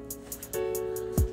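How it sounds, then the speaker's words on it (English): In a trap beat made in FL Studio, soft rapid hi-hats tick over a sustained tone before one deep, booming kick drum thumps near the end. "And then I also, after that, I added a kick, which kind of gives it more like oomph."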